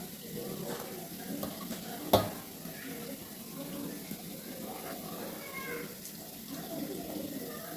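Purnam burelu (sugilu) sweets frying in hot oil, a soft steady sizzle with occasional stirring scrapes and one sharp clack near the start, fairly quiet and close.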